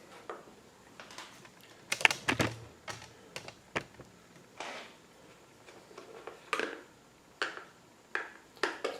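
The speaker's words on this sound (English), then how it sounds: "Probably should pop the handguard off too." Screws and small plastic parts being handled while a handguard is removed from a Kawasaki KLX300 motorcycle: a string of sharp, close clicks and taps in irregular bursts, with no talking.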